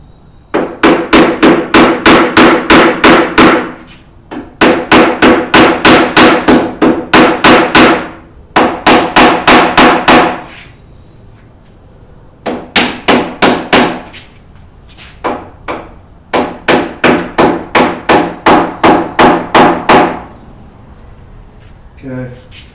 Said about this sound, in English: I'm actually gonna get a hammer. I'm gonna tap those nail heads in.